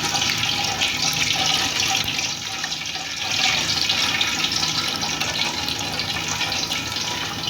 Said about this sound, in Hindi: ये देखिए हमारे डोनट्स जो हैं वो ऑयल में डल चुके हैं। हम इनको लो फ्लेम पर फ्राई करेंगे